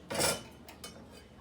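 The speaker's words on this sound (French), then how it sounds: "Avec le fouet, mélangez tous les ingrédients jusqu'à ce que la pâte soit lisse et homogène." A whisk beats crêpe batter in a large bowl: one brisk metallic scrape and clatter against the bowl, then a softer second stroke, close by and otherwise quiet.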